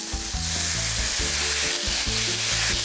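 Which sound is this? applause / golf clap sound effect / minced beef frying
minced beef frying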